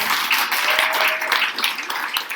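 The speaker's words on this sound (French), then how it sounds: "Qui est-ce qui peut applaudir l'église de Moisson de Saint-Étienne?" A church congregation applauds in a short burst of steady, moderately loud clapping from many hands, with faint voices mixed into the crowd sound.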